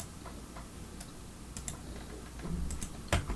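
Keys tapped on a computer keyboard in a 3D character modelling session, a few sparse light clicks over a low background hum, then a sharper press near the end.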